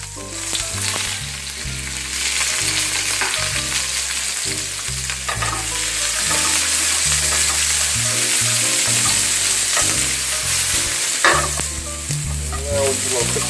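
Chicken, shrimp and mushrooms stir-fry in a hot pan with a steady, dense sizzle that continues throughout, set under prominent background music with no talking.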